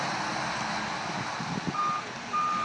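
A backhoe fitted with a snow plow reversing on a snowy town road, its high, thin backup beeps sounding twice over a steady wash of engine and traffic noise.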